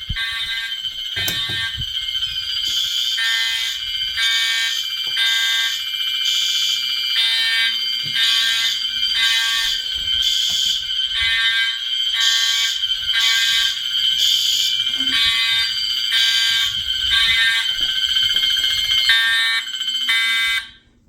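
Two fire alarm horns blare during a fire alarm system test indoors, a loud, very regular pulsing tone repeating steadily for about twenty seconds, then cutting off abruptly.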